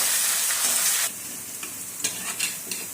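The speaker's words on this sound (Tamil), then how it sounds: "இப்போ கூடவே நறுக்கி வச்சிருக்கிற வெங்காயத்தை போட்டு வதக்கிக்கலாம்" Chopped onions sautéing and sizzling in hot oil for cauliflower gravy, a steady close hiss broken by a few soft stirring scrapes of a spoon in the pan.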